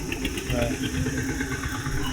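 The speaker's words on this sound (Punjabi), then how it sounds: "ਇਹ ਸੋਹਣਾ ਟਰੈਕਟਰ ਹੈ ਜੋਂਦੀਆ ਆ 5310 9 ਮਾਡਲ ਆ ਜੀ" A John Deere 5310 tractor idles nearby in a steady, low mechanical rumble while someone talks over it.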